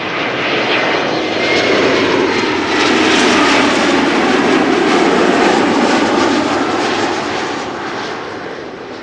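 Loud, close jet airliner in German Airways' chocolate-themed special livery arriving at Amsterdam Schiphol, a steady broadband engine roar that swells and holds for the whole stretch with no voices.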